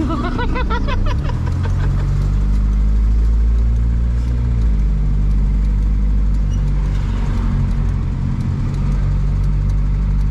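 A car engine runs steadily at about 1,500 RPM, a loud, close, continuous low rumble with a constant hum throughout and no speech over it.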